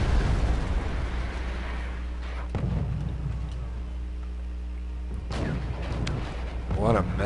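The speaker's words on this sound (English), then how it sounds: "Look at all this artillery going back and forth." Artillery fire in the video game Wargame, with a heavy low rumbling barrage and a few distinct booming impacts over a continuous roar, while a voice talks over parts of it.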